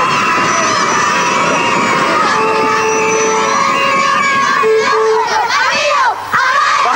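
A group of Dutch schoolchildren shouts and cheers together in a loud, sustained burst of massed young voices, close and raucous, ending with a couple of brief dips.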